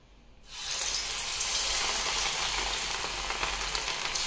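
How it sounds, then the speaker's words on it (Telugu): Punugulu batter dropped into hot oil, a steady, loud, dense sizzle of frying that swells in after a quiet start and then holds evenly, close by and without any voices. "ఇప్పుడు అనేది ఆయిల్ వేడెక్కింది కాబట్టి మనం అనేది పునుగులను వేసుకుందాము"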